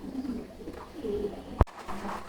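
Pigeons coo softly and steadily at a pigeon farm, with low murmuring calls through most of the stretch and a single sharp knock midway.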